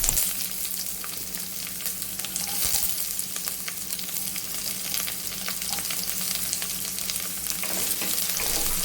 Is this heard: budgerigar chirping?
no